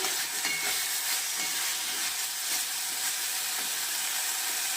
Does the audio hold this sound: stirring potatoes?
yes